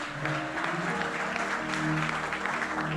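A church audience applauds during a sermon, a steady wash of many hands clapping throughout, moderately loud and sustained with no voice over it.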